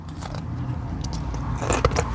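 A pickle spear from a sub shop meal is bitten into, giving a few crisp, wet crunches and chewing sounds close to the mouth, sharpest near the end.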